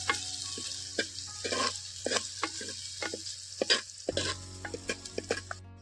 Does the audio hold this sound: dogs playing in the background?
no